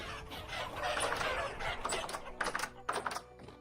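Chickens cluck in the video game Vintage Story, a run of soft, close clucks and short bursts over a quiet background, with a few sharper peaks near the end.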